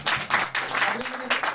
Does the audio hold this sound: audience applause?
yes